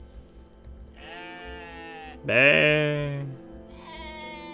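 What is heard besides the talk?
rams bleating in the video game OneShot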